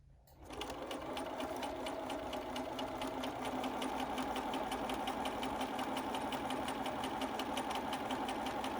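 Sewing machine stitching a fabric face mask, a fast steady mechanical whir and needle chatter starting after a brief pause and running evenly, close and moderately quiet, no voices.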